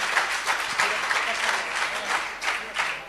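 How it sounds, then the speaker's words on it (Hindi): Audience at a Jain religious gathering applauding steadily for the whole stretch, a dense, fairly loud wash of many hands with small surges, with no voice over it. "तालियां जरा जोरदार बजाओ की लगे।"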